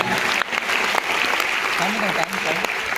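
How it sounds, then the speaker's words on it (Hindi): Applause from an audience at a business meeting hall, a continuous patter of clapping hands at moderate loudness, with a voice talking over it. "खुशी हुआ तो ताली कौन बजाएगा भाई?"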